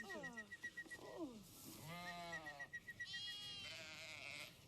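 Sheep on a farm bleat several times at close range, some cries short and others drawn out and wavering, with people talking quietly in between.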